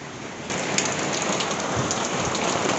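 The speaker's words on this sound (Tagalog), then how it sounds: "malakas ang ulan." Heavy rain pours steadily, a dense continuous hiss of drops drumming on surfaces, growing slightly louder after the first half second.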